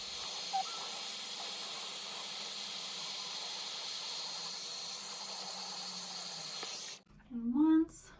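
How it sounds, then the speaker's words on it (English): A Dyson Airwrap hair styler blows a loud, steady, close rush of air for about seven seconds, then cuts off abruptly and a voice follows. "keep my section pretty close to my face and aim my blower down"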